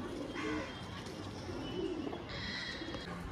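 Caged pigeons at a pigeon shop, several low throaty coos coming and going, moderately faint, with some higher chirps and shop noise around them.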